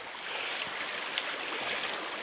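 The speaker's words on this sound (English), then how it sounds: "It's a creek and it's along the side of the highway" A creek running beside a highway gives a soft, steady rushing flow, faint and even throughout with no voices.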